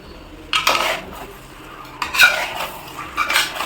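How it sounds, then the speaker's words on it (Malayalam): Chicken tossed with turmeric powder and salt in a heavy iron pot, giving two or three close bursts of metallic scraping and clinking between quieter pauses. "ഇതിലേക്ക് നമുക്ക് മഞ്ഞപ്പൊടി ഇട്ട് കൊടുക്കാം ഉപ്പ് ഇട്ട് കൊടുക്കാം ഓക്കെ എന്നിട്ട് നല്ലപോലെ ഒന്ന് മിക്സ് ചെയ്യാം"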